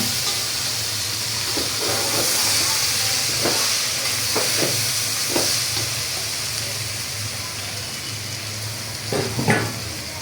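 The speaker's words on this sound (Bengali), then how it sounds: "আমি এখন সিদ্ধ ডালটা দিয়ে দিব।" Boiled lentils go into a pan of frying spices, raising a steady, hissing sizzle with steam, punctuated by a few scattered stirring clinks, close-up throughout.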